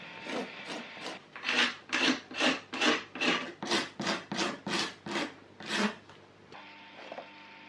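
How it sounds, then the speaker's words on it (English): A Stanley blade scrapes paint off the edge of a mirror's back in a series of about fourteen rhythmic rasping strokes, close and fairly loud, then stops to a faint hum. "I'm just going to scrape that off with a Stanley blade just to remove it and give it a neater edge"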